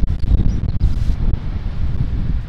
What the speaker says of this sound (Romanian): Doar că bate vântul foarte tare și sperăm că se aude ceva.